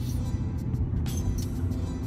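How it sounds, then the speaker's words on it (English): A manual stick-shift car with its engine running as it pulls away on a little gas, a steady low rumble filling the cabin, close and continuous with faint clicks above. "All right, now we're going. A little bit of gas."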